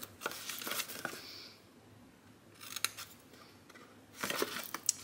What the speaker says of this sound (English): And then you just wanna snip those lines,